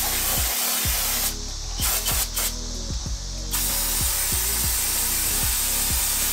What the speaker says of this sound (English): let's go ahead and blast it with this caliper cleaner